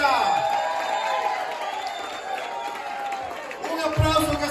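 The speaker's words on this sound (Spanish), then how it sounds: "Un aplauso que se sienta más." A breakfast audience celebrating Dominican heritage month at 546 West 207th Street applauds and cheers for congressman Adriano Espaillat. The clapping and crowd noise are loud and sustained, with voices mixed into it, and a burst of louder cheering comes near the end.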